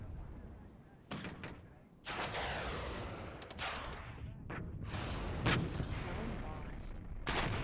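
Repeated gunfire and heavy cannon blasts from BMD-2 vehicles in the real-time tactics wargame Regiments, booming in loud bursts over a continuous rumbling battle din, with shots thudding in at irregular intervals.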